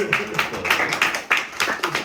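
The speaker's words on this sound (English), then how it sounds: "Give a round of applause." Scattered clapping from a small group, a few seconds of uneven hand claps with voices murmuring underneath.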